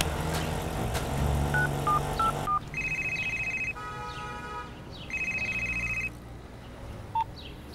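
A mobile phone number is dialled, a short run of separate keypad tones followed by long steady ringback tones repeating loudly and close, with faint background noise.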